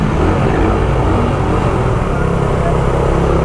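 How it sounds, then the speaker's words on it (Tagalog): Carbureted Raider 150 motorcycle engine roars continuously during a ride, a loud rough rumble with wind buffeting, steady in level throughout. "Gustong gusto ko yung tunog ng carb."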